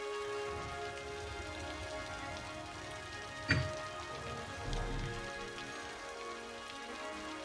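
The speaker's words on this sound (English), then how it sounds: "I see that it started raining while I was away." Rain in the city-building game Cities: Skylines, a steady soft patter of raindrops on surfaces at low level, with one brief sharp knock partway through.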